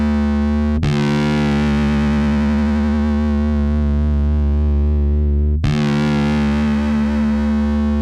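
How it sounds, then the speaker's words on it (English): Sustained bass guitar notes through a Keeley chorus pedal, swirling and wavering, plucked twice and left ringing loudly. "there's a chorus effect right there"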